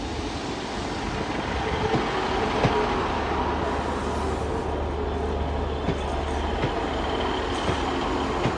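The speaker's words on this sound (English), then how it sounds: "Departing platform 4B is the 1215 Northern Train service to Leeds." A Northern train pulls away from platform 4B at Sheffield station, a steady loud rumble of wheels and engine with faint clicks and a low drone, no voices.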